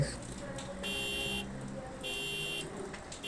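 An alarm in the Car Parking Multiplayer video game sounds as two bright, buzzing electronic bursts about a second apart over a low background hum.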